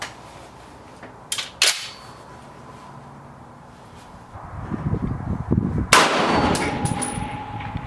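An M1A EBR rifle fires a single sharp report outdoors at a distant target, followed by a lingering rumble. A couple of brief metallic clicks come earlier.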